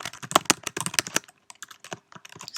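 Close, crisp clatter of fingers typing on a computer keyboard, a quick burst of keystrokes, a short pause, then more scattered taps, with no one talking.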